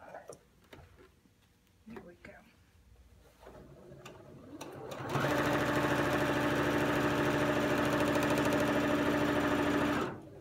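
A sewing machine with a quarter-inch foot stitches a polyester pillowcase, starting after a few quiet handling sounds and running in one loud, steady whir with a fast rhythmic hum for about five seconds before stopping.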